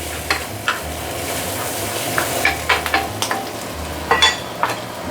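Chow mein noodles being stir-fried in a wok after eggs: a steady sizzle with scraping, clattering strokes of the spatula at irregular intervals, close up.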